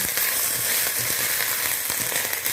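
Ginger paste frying in a pan while being stirred, a dense, close, continuous sizzle with faint scraping strokes and tiny crackles throughout.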